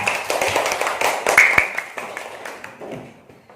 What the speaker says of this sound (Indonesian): Kasih tepuk tangan buat Anggreni sama Tuayu ya